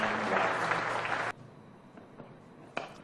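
A cricket crowd at a Sheffield Shield match at the WACA ground applauds a batting milestone of 153 not out, with a burst of clapping that cuts off abruptly after about a second and leaves quiet ambience.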